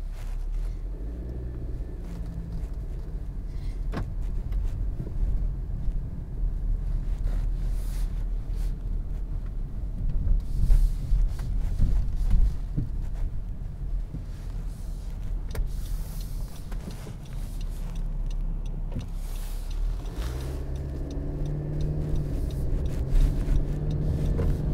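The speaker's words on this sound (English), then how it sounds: "Let's go for a drive." A 2022 Honda CR-V Sport drives along the road, with a steady low engine and road rumble from inside the cabin, occasional bumps and thuds, and a shift in tone near the end.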